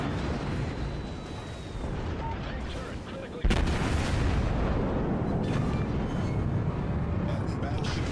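Naval gunfire thunders in a World of Warships battleship match, a rumbling barrage that breaks into a sudden loud blast as an enemy battleship is destroyed, followed by a sustained roaring wash of sound.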